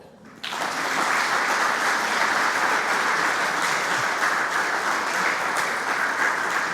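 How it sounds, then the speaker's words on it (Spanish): Sustained audience applause at a church gathering, many hands clapping densely and steadily after a brief quiet start, loud and continuous with no voices on top. "Un aplauso, por favor."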